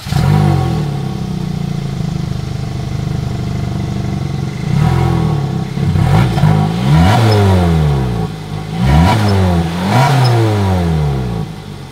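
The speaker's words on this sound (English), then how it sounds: "As always, here is that exhaust clip." Exhaust of a 2024 Hyundai Tucson SUV, idling steadily before a series of loud, close engine revs that climb and fall three times in quick succession.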